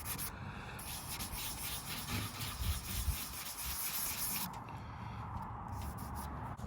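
Hand sanding a leather automotive interior panel with 320 grit sandpaper on a block, light circular strokes making a continuous close rubbing hiss with a soft rhythmic pulse.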